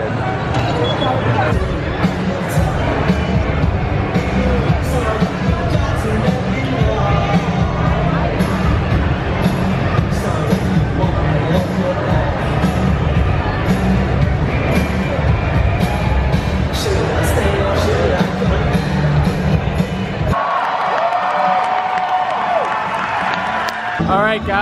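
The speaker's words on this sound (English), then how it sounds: "Here comes the crowd. All these people for Bill and Ted." Dense crowd of theme park guests at a Halloween Horror Nights event in Orlando, arriving for the Bill and Ted show: a loud, continuous hubbub of many voices with scattered cheers and claps, ending in a sudden drop to a quieter murmur.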